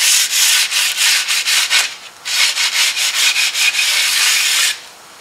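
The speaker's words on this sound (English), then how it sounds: "Smoothed out all the lip on here, and I'll be taking the 80 grit." 80-grit sandpaper worked by hand over the body of a 1934 Ford coupe, loud close rasping strokes in a quick steady rhythm, a short pause, then another run of scraping passes.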